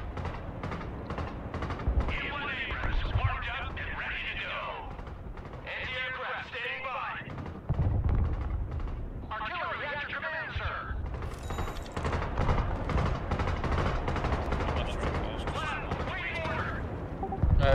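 Bombs striking in the Broken Arrow war video game, rapid rattling bursts of explosions and gunfire that come and go in clusters under almost constant excited voice chat from the players.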